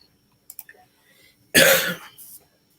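A person with a cold gives a single sharp, harsh cough at close range, preceded by a few small clicks and breaths in an otherwise quiet room.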